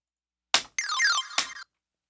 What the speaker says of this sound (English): The plucks are just square waves